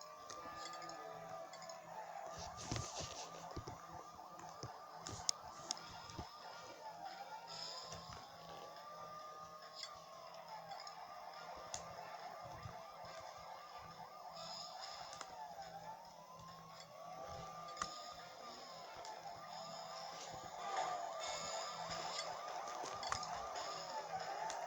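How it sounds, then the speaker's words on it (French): A wailing police siren in a LEGO City Undercover video game rises and falls repeatedly at a steady, fairly quiet level, with a few light clinks and engine hum underneath. "Je suis en sirène, donc je peux griller les feux."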